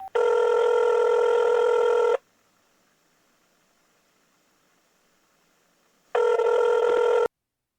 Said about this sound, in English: I'll get it and call Dani.